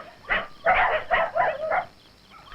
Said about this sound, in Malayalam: നായ്ക്കള് കുറിക്കുന്നു.